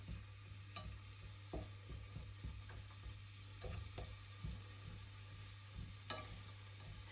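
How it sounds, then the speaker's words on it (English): Savoury rice sizzles in a hot pan, a steady quiet frying hiss broken by intermittent scraping clicks of stirring, close and alone with no talk. "Now we can hear the sizzling, so we know that the pan is getting hot."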